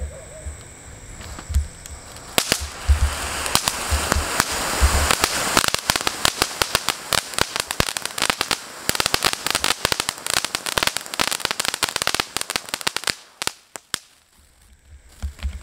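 A dense barrage of firecrackers crackles and bursts rapidly for several seconds, loud sharp pops stacking into a continuous rattle before fading out.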